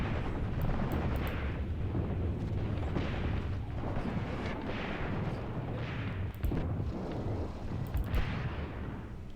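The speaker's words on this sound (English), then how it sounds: "Two different artillery battery locations." Artillery barrages in an Eastern Front World War battle video game, repeated deep booms and rumbling blasts rolling over one another, with sharper cracks of distant gunfire scattered through a dense, continuous battlefield din.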